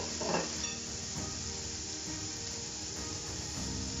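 Tomatoes go into a hot pan for a lamb moussaka that already holds sweated onions, garlic and meat. A steady, low hiss and sizzle runs throughout, with a slightly louder burst at the start and no voices.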